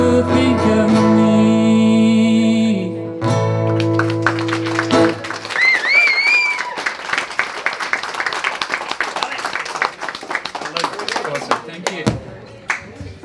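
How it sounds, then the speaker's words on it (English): Audience clapping and cheering at an open mic night in a hotel pub, starting as a band's chord fades, then a dense burst of applause with whoops that thins out over several seconds, loud and close. "Cheer it one more time for Alex, people"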